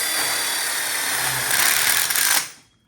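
A power drill drives a screw into an outdoor kitchen grill module in one continuous close whine that rises in pitch and stops abruptly.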